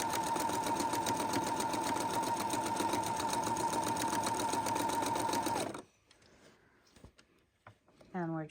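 A sewing machine runs steadily for almost six seconds, stitching a very long quilt seam with fabric pieces placed right sides together, then stops, leaving quiet room noise and a short rising squeak near the end.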